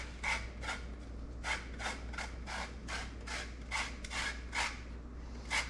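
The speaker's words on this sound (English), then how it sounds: "I got some tangelos here, and I'm not going to add the rind, but I am gonna zest them." A handheld zester scrapes the rind of tangelos for a glazed Christmas ham, making soft, raspy strokes that repeat in uneven bursts, close but fairly quiet, with no talk.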